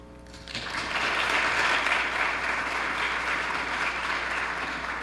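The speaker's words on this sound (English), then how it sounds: "please hold applause until the end" Applause from an audience at a congressional candidates forum, rising after a short quiet start and then holding steady and full, fairly close.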